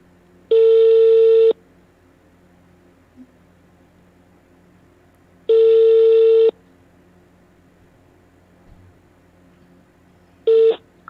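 Three long electronic telephone tones, each about a second, are spaced several seconds apart on the phone line of a Thai Buddhist dharma radio call-in program. They sound alone over a faint steady hum.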